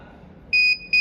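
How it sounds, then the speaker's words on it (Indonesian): A high-pitched electronic buzzer driven by an Arduino temperature sensor circuit sounds in two steady tones, the second starting just after the first stops, over faint background noise. "di sini buzzer berbunyi"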